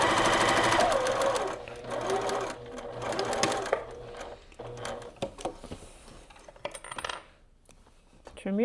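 A sewing machine stitches a seam across quilt fabric, with loud, close, rapid stitching that runs in spurts, slows and stops, followed by a few light clicks and taps.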